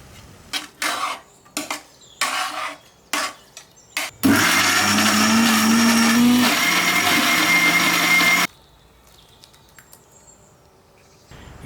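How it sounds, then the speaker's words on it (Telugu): A kitchen mixer grinder whirs loudly and steadily for about four seconds as it grinds fried spices into a paste for egg khuska rice. A few sharp clinks come before it, and quiet follows. "మిక్సీకి వేసి పేస్ట్ లాగా తయారు చేసుకుందాం."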